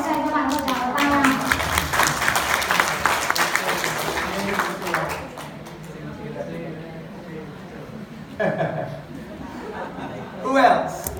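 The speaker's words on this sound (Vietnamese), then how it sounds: "Give her a round of applause." Clapping from a small audience at a coaching session, a patter of hands running through the first half and thinning out, heard under steady talking and some laughter.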